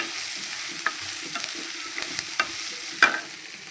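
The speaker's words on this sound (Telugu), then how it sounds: "బాగా ఫ్రై అవ్వాలి. ఇవి ఫ్రై అవుతున్నాయి." A spoonful of ginger garlic paste fries in a hot pan with a steady, close hiss, punctuated by a few light clicks and scrapes from stirring.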